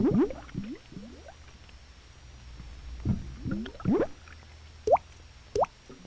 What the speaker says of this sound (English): The surface is constantly broken by bubbles, as gas from deep underground works its way upward.